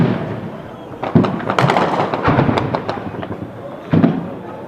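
Heavy bombs and gunfire burst during fighting in Rubavu near Goma, a dense run of sharp cracks and pops with deeper booms near the start and end, loud and close, with some shouting mixed in.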